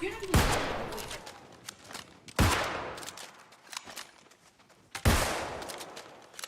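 Musket gunfire in a video game: three loud, sharp booms spaced about two to three seconds apart, each with a long fading tail, and quieter in-game noise between them.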